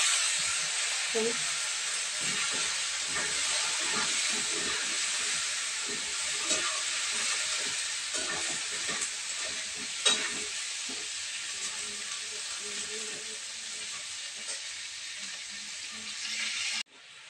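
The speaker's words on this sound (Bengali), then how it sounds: "এই যে ফুলকপিগুলো এখন কড়াইতে দিচ্ছি" Cauliflower frying in oil in a wok makes a loud, continuous hissing sizzle that holds steady throughout, with occasional stirring clatter and some faint voices underneath.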